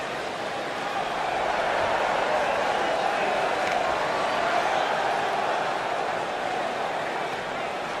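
Steady crowd buzz fills a WWE 2K19 video game wrestling arena ahead of a heavyweight championship match on Raw, a continuous dense roar that holds at an even loudness throughout.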